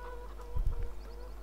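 Chickens on a farmyard in the game Landwirtschafts Simulator 2013 give a brief cluck or two, close and soft over a low steady hum.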